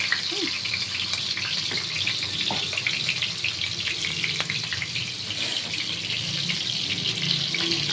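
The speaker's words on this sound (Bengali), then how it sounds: "কড়াতে সাদা তেল দিয়ে দিলাম আর এই পনিরটা আমি ভেজে নেব" Paneer fries in white oil in a kadai, giving a steady close hiss with a faint crackle and occasional small clinks, with no talking over it.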